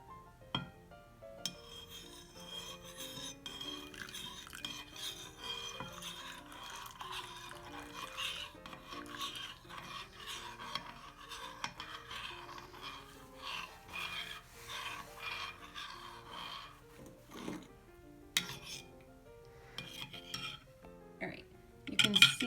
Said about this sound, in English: you're going to slowly add it to your vinegar while you are stirring